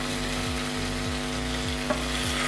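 Grated sweet potato sizzles in hot ghee in a pan over medium flame, a steady frying hiss with a faint low rhythmic stirring scrape repeating every second or so.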